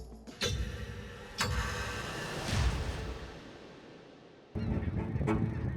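Large flock of geese trying to land on an open field near Tallinn: a broad, rushing wash of wing and air noise swelling and fading, with a few sharp ticking clicks over steady background rumble.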